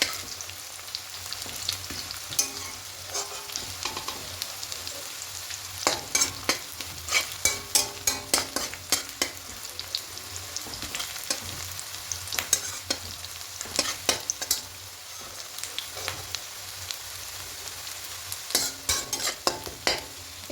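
Onion fries in a pan for chicken kosha, a constant hiss of oil under frequent clattering scrapes and knocks of a spoon stirring, busiest in bursts partway through and near the end.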